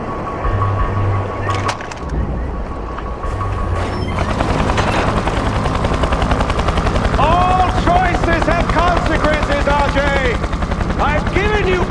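In Far Cry 4 on PC, a helicopter's rotor whirs steadily under bursts of gunfire and game effects, loud and busy, with a voice speaking over parts of it.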